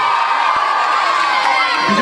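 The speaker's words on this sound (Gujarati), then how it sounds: "તમારા પોતા માટે એક જોરદાર તાળીઓ" An audience at a Sharad Purnima gathering at a Gondal temple bursts into loud, dense cheering and clapping that carries on without a break.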